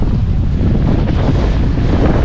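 Loud, constant wind buffeting a microphone, a deep rumbling roar with no voices, filling the whole clip.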